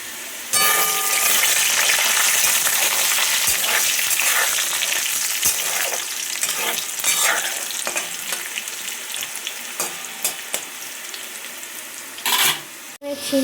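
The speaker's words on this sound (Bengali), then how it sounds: "ভাজা বসিয়ে দিয়েছি শিম ভাজতে" Flat beans fry in a pan, a loud, continuous close sizzle with occasional stirring clicks, lasting throughout and fading slightly toward the end.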